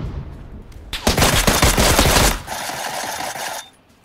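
Rapid automatic gunfire rings out in the PUBG battle royale game, a loud close burst of shots lasting over a second, then a quieter sustained rattle that cuts off abruptly.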